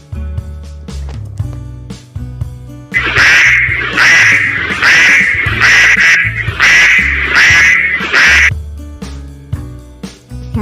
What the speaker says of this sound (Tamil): வாத்து